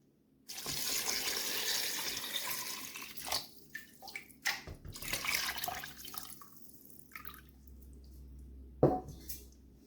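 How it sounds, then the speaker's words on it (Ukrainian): Salted water pours steadily from close by over eggplants packed in a jar, a continuous watery splash that fades out with a few brief clinks and drips near the end; no talking. "І тепер заливаю солоною водою."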